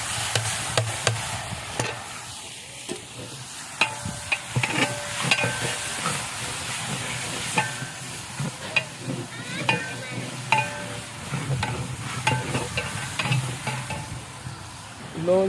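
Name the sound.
spice masala frying and being stirred in pan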